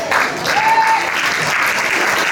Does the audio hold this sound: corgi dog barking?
no